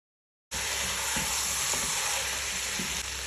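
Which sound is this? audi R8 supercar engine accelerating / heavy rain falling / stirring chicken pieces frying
stirring chicken pieces frying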